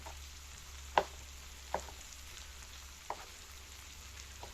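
Diced kielbasa sausage fries in a pan over a campfire with a soft, steady sizzle. A few sharper clicks and pops stand out, and the sound stays fairly quiet overall.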